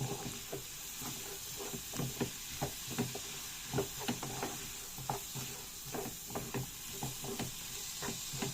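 Chopped red and green peppers sautéing in a pan, a soft continuous sizzle broken by frequent light knocks and scrapes of stirring, fairly quiet and close, no talk.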